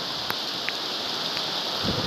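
Heavy rain falls on the Amazon rainforest during a nature walk, making a dense, steady hiss close around the listener, with a few sharper drops tapping nearby and no talking.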